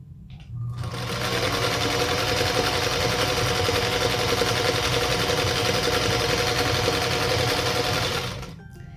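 A sewing machine chain-piecing a Dandy Star quilt block runs in one long steady stitching burst for about eight seconds, a loud even mechanical whir with rapid needle chatter, starting and stopping cleanly.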